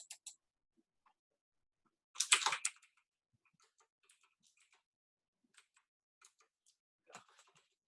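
A computer mouse clicks near and quietly, with a cluster of quick clicks partway through and sparse single ticks around it in otherwise near-silence.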